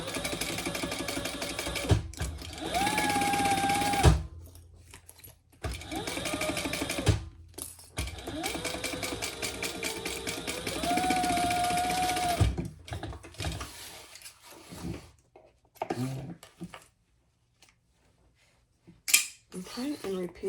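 A home sewing machine bastes fabric pieces at an eighth-inch seam in several loud, rapid runs of stitching, separated by pauses and brief handling noises.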